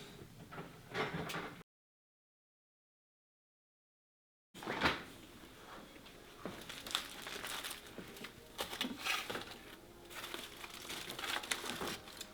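Food being wrapped in aluminum foil and put in the fridge, crinkling and crumpling foil close up, a silent gap, then more rustling and handling with a fridge door sliding or closing, no talking.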